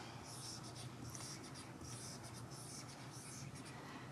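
Marker or pen strokes drawing arrow-shaped jumps along a number line, heard as a faint, steady scratching with brief louder squeaks in bursts, close by and quiet, with no talking.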